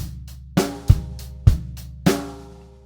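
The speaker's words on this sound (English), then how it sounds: "we're playing the snare drum on the and of 4" A drum kit plays a sparse groove, with four distinct hits, kick and snare strokes, the snare landing on the and of four, cymbals washing over each stroke and decaying between them.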